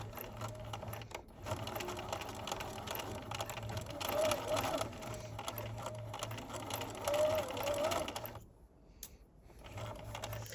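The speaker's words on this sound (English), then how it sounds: "So I'm going to start with one side, start with my back stitch, and just make my way to the other end." A sewing machine runs steadily as it edge stitches a fabric band, a continuous mechanical whir with rhythmic needle clatter that pauses briefly near the end before resuming.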